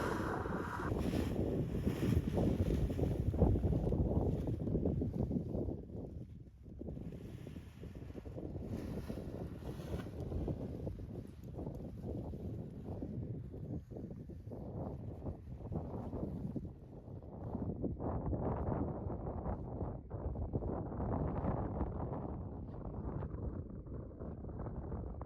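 Wind gusts across an open paragliding hill, buffeting the microphone with a steady low roar that swells and eases over about twenty-five seconds, with no one talking.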